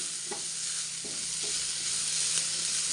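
Chopped ginger and garlic frying in oil in a pan for a cauliflower masala, with a steady close hiss and a few soft scrapes from a stirring spoon, no voices.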